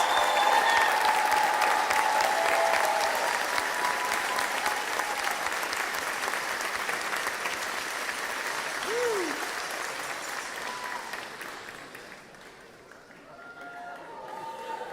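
A commencement audience at a spring graduation applauds Bachelor of Science graduates with a dense, full wash of clapping that holds steady, then gradually thins and fades toward the end, with a brief faint whistle partway through.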